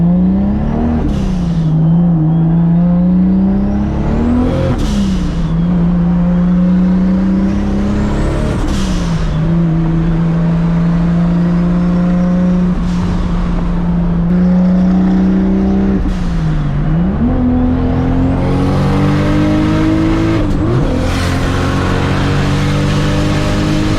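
A straight-piped turbocharged Toyota Supra on a road cruise roars loudly and continuously, repeatedly accelerating through the gears with rising engine pitch and sharp drops at each shift, heard from inside or close to the car.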